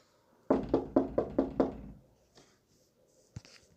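Someone working a door loose knocks on it five times in an even, rapid run of hard, resonant thuds, close and loud, followed by faint scuffing and a single later tap.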